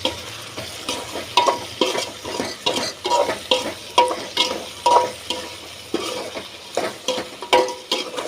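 Vegetables sautéing in a pan while being stirred, a soft sizzle under regular scraping strokes of a spoon roughly every half second, close and moderately loud, no talk.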